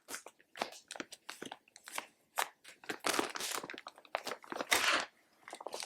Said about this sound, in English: Get the plastic bag closed.